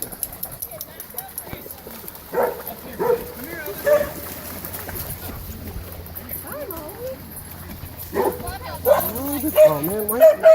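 Several dogs gathered at a mountain creek give repeated barks and yips amid background chatter, moderately close and irregular, with voices talking throughout.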